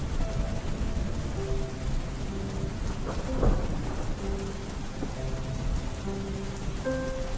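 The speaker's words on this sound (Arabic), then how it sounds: "الدنيا بتمطر جامد قوي" Heavy rain falls steadily in a dense, close hiss, with a low thunder rumble rolling through partway, and no voices.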